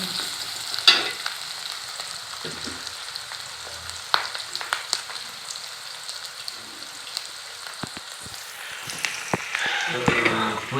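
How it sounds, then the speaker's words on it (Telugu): Chicken sizzling in hot oil in a home kitchen, a steady crackle with scattered pops and louder bursts near the end, without talk over it. "ఇక నూనె ఇది మంచిగా వేగుతున్నాయి"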